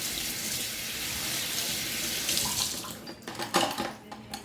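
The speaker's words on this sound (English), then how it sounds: "Just run it under the cold tap" Cold tap water running steadily over a sweet potato in a kitchen sink, a soft continuous splash that breaks into irregular louder splatters and knocks toward the end as the potato is turned under the stream.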